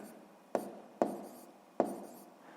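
A math solution is written out by hand: three short, distinct pen strokes scratch across paper at uneven intervals in an otherwise quiet room.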